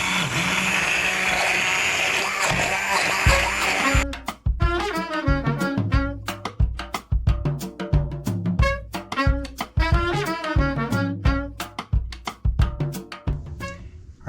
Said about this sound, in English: We're going to just take a moment with a stick blender and kind of puree that down.